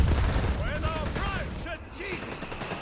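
Automatic gunfire in Company of Heroes 3, a dense battle din of rattling shots under someone talking throughout.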